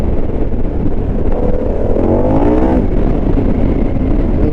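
A Harley-Davidson Pan America motorcycle accelerates hard under open throttle, its engine note climbing steadily in pitch over a loud, constant roar of wind and road noise with no one speaking.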